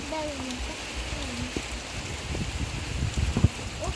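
Steady rain hisses across the whole stretch, with faint voices and a few soft knocks nearby.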